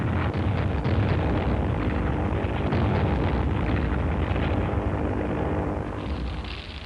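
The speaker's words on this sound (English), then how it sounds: "Nipponese planes began bombing Manila in early December." Japanese aircraft bomb Manila in December, heard as a heavy, continuous rumble of engines and blasts that stays loud and dense throughout, with no clear gaps and a slight easing toward the end.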